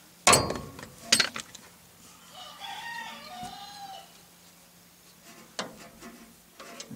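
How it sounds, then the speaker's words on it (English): Roosters crow in a farmyard beside a shop where a 1958 GMC truck's tie rod is being straightened; a few crowing calls rise mid-clip between sharp metallic knocks, moderately distant, with no talk. "you wanted roosters? You got roosters."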